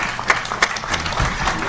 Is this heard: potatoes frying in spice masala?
no